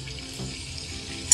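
Eggs and boiled potatoes frying together in hot oil for an egg and potato biryani, a steady close sizzle with no talk and a brief sharper clink near the end.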